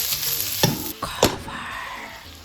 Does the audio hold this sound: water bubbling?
no